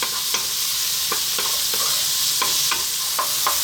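Generous garlic fries over lively heat, a constant close sizzle broken by regular scraping strokes of a spoon or spatula against the pan, no voices.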